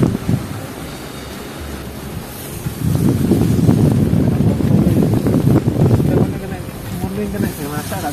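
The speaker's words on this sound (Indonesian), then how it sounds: "Angin kencang disertai butiran air" Strong wind with drops of rain on the summit area of Mount Kelud, a steady rushing buffet of gusts against the microphone that swells louder through the middle of the clip.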